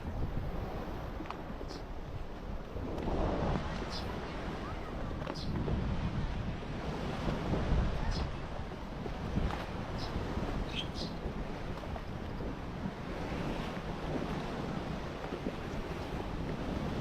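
Sea waves wash continuously onto Pasir Panjang beach on Tioman Island, a steady broadband surf rush with gusts of wind buffeting the microphone throughout and no voices.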